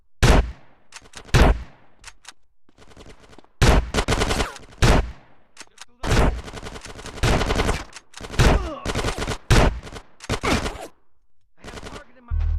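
A police shootout in GTA San Andreas brings loud, sharp gunshots in rapid bursts and fusillades, separated by brief gaps of quieter game sound.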